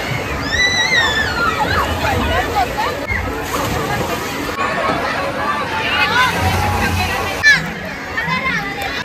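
A crowd at a water park pool in Bibinagar, Hyderabad, makes a lively babble of voices and children's shouts over constant sloshing and splashing water, with one sharp splash standing out.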